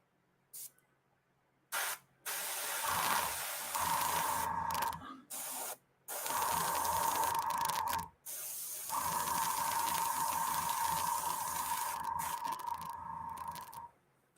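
Spray paint hisses from an airbrush onto a figure in several bursts of steady spray separated by short pauses, close and clear, the longest burst running several seconds near the end.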